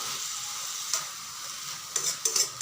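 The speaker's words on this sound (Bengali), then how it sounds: "লবণ দেওয়াতে এখন কচু থেকে যে জলটা ছাড়বে এই জলটাকে কিন্তু ভালো করে আঁচ কমিয়ে কমিয়ে ভেজে নিতে হবে।" Taro with prawns frying in a pan over low heat, a steady soft sizzle running throughout with a few brief louder crackles and stirring scrapes near the end.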